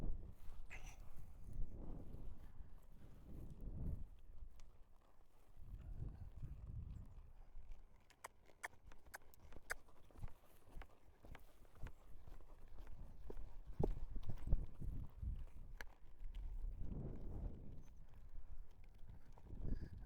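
A young filly's hooves fall in a soft, steady walking rhythm on an arena surface after loping, faint and somewhat distant, with occasional sharp clicks.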